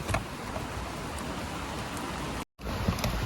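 Steady rain falls outdoors, a dense even hiss with scattered louder drops, broken by a brief dropout near the end.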